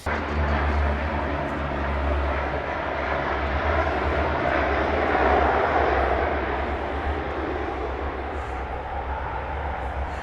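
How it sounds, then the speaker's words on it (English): A steady, loud propeller aircraft drone fills the whole stretch, a low engine roar with a broad rushing hiss, as firefighting planes on a practice run pass close overhead near Camp de Mar, Mallorca, Spain. "We can see the fire planes are out and they're practicing today"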